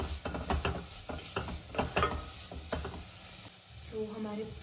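Red amaranth frying with onion and turmeric in a pan, a steady sizzle broken by several sharp stirring scrapes, loud and close, with a lower hum underneath near the end.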